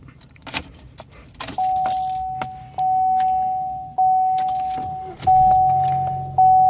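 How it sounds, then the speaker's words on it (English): Car keys jangle and clink near the ignition of a 2013 Chevy Sonic as the key is pulled out, with a steady chime repeating and a few sharp metallic taps, all close and without talk. "So I could take my key out."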